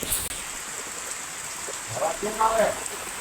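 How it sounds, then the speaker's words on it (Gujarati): Steady heavy rain hiss fills the background throughout in a Gujarat village, with a few brief voices or sounds rising faintly near the end. "વરસાદ અત્યારે ચાલુ છે તમે જોઈ શકશો"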